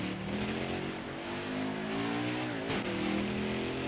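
Truck engine revving during a backwards victory lap at Talladega in a racing video game, a steady droning motor with a rising pitch and a brief shift around the middle.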